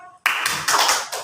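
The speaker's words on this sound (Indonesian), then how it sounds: "Tangan silakan untuk bersiap untuk tepuk tangan." A classroom of students clapping their hands together in unison: a sudden burst of claps after a brief hush, close and fairly loud, with a few sharp accents.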